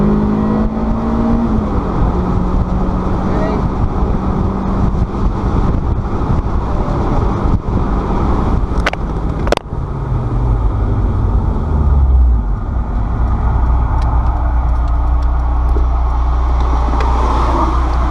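A Honda S2000 with upgraded front brakes slows hard from 100 km/h, heard from inside the car as loud, steady road and wind roar while the engine note falls away to a low idle.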